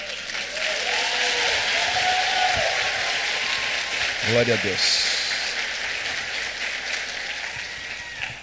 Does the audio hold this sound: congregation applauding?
yes